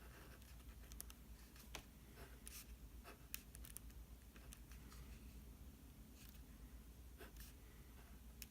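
Faint, sparse scratches and taps of a lecturer drawing extra layers on a board, quiet strokes spaced irregularly over a low room hum.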